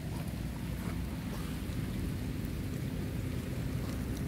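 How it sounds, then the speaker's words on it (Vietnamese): Steady rain falling outdoors in Hậu Giang, a continuous dense wash of noise with a heavy low rumble, even and unbroken throughout, with no voices. "trời cũng đang mưa."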